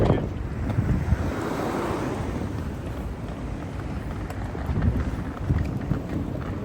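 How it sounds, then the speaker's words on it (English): Strong wind buffets the microphone outdoors in Copenhagen, a loud, continuous roar with gusty surges that rise and fall throughout. "Definitely windy."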